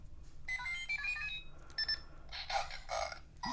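A Kamen Rider Faiz Legend gear belt toy, an older economy model, plays its electronic sound effects: a run of bright beeping tones and chimes in short bursts, close and fairly loud, with no talking.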